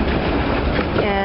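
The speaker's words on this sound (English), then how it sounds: "that's the train from Palma to Soller" A vintage 1912 narrow-gauge train with wooden carriages runs from Palma to Sóller on Mallorca, its steady, loud rolling rumble and rattling heard from close inside.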